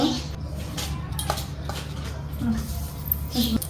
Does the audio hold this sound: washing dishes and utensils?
yes